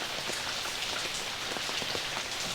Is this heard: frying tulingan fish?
no